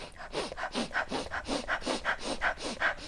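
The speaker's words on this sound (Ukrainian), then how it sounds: "Тобто я дуже часто дихаю так." Quick, deep panting breaths in a steady rhythm, about eight huffing inhale-exhale cycles, loud and close with no talking.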